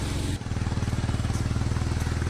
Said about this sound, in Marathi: अशी बाईक मुश्किलने चढते इकडे